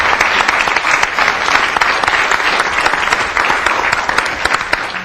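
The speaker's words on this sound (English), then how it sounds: "let's give Joey a round of applause too." Audience at a city council meeting bursting into sustained applause, dense and loud with many hands clapping close by for the full stretch, no voices rising above it.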